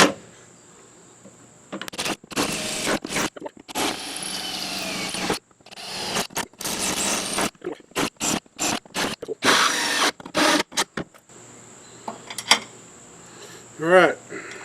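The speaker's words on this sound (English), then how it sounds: "that's the drill bit I need to put through there" A power drill with a bit bores through a truck tailgate in short bursts, whining and stopping repeatedly at close range, with pauses between runs and a brief rising whir near the end.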